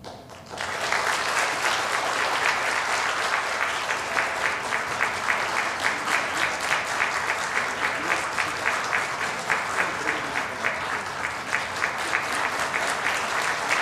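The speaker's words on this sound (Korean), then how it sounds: "여러분들 큰 박수로 인사할 때 격려해 주세요." A church congregation at Sunday worship breaks into loud, sustained applause to greet the children. The clapping starts abruptly and holds as a dense, even roar for over ten seconds.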